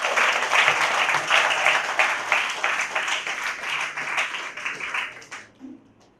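A church congregation bursts into loud, dense applause for Father Leo, clapping steadily for about five seconds before it stops abruptly, with faint murmuring underneath.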